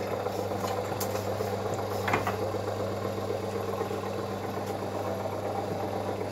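A Rapidor Manchester power hacksaw runs with its clutch disengaged, giving a steady mechanical hum and drone with faint rattles and one brief clank, and no one speaking.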